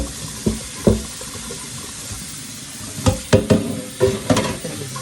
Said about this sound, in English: Scrub it down a little bit more just to make sure there ain't no grease remaining on this pot.